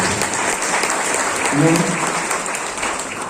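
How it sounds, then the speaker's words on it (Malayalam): An audience claps in sustained, even applause throughout, dense and fairly loud, with a faint voice briefly rising under the clapping. "ഞാൻ കാർ വാങ്ങിയല്ലേ, നിങ്ങൾ കൈയടിക്കുന്നത്."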